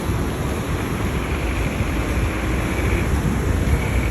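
A broad river with many waves makes a steady, full rush of water that is loud and close, with constant wind noise mixed in and no speech.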